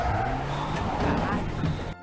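A car in a Brazilian film scene skids and squeals its tires as it nearly runs people over, loud and close for about two seconds, with voices mixed in, then cuts off abruptly.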